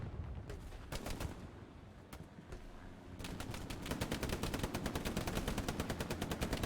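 Gunfire from the World War II shooter game Hell Let Loose: scattered loud single shots, then a dense rapid burst of automatic fire, with no talking.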